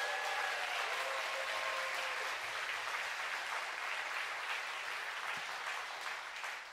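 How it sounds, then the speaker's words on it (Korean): Concert audience applauding two performing teams at a Valentine's Day musical-versus-opera show, a dense, steady wash of clapping from a large crowd that carries through the whole stretch and eases slightly at the end. "다시 한번 두 팀의 큰 박수 부탁드립니다."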